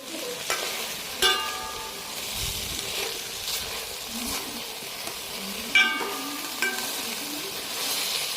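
Vegetable masala for biryani cooks down in a pot with a low, steady sizzle as its water dries off, broken by a few sharp metallic clinks from stirring.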